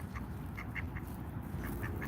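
Ducks quack in repeated short calls outdoors in Washington, DC, against a steady low background rumble, with no talking.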